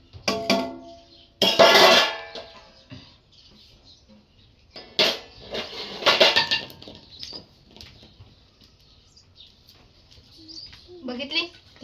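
Stacked kitchen dishes and pots clink and clatter in short bursts while being washed in a village home, the clanks spaced unevenly, with speech nearby.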